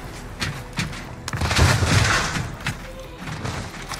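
Gunfire from Call of Duty: Warzone, a cluster of loud shots and booming thuds peaking mid-clip, with a few sharper cracks before and after, set against a constant game background.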